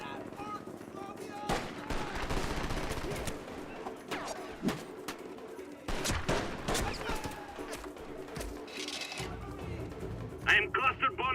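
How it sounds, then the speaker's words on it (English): Cluster bombs go off in the Mercenaries 2 video game as a string of loud, heavy blasts that come in repeated bursts, with rumbling between the hits. "I am cluster bombing area."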